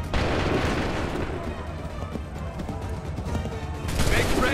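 Musket volley fire in Assassin's Creed III: a dense, rumbling roll of overlapping shots and booms fills the scene, loud and continuous, with shouting voices mixed in and a fresh burst near the end.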